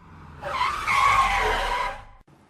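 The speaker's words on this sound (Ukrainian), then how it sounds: "І раптом водій натиснув на гальма." A car brakes hard on a road, its tyres skidding in a loud, sustained screech of about one and a half seconds that rises quickly, holds steady and then cuts off abruptly.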